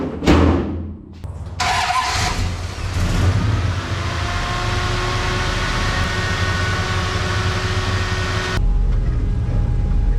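A classic car fitted with an aftermarket power brake booster cranks and fires up, then settles into a steady mid-pitched engine idle and drive, a continuous rumble heard close with no talking.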